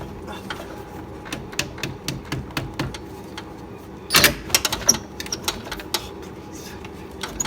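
While timing chains are being replaced, a half-inch impact gun removing a bolt fires off sharp rattling bursts, one loud run in the middle among scattered mechanical clicks and knocks, with workshop noise behind.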